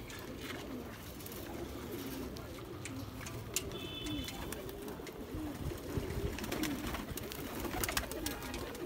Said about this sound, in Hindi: ये जी कलपरे भूरे कबूतर